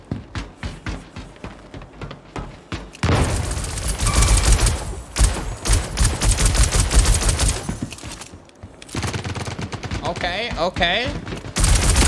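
Pistol fire in Star Citizen, loud bursts of rapid shots in the foreground after a quieter stretch of scattered hits, with someone speaking briefly.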